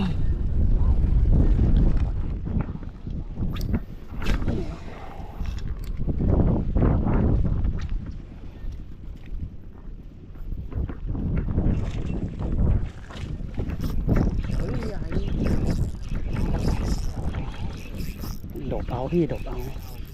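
Gusty wind buffets the microphone beside a sea bass fishing pond, a steady low roar that swells and eases in waves for the whole stretch, with people talking intermittently over it.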